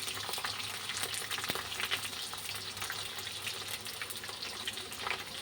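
Onions and curry leaves sizzling in a pan of oil while cooking chicken curry, a steady soft crackling hiss with occasional stirring clinks, faint and continuous.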